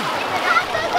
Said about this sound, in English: Okay, so I'm about to jump into the water.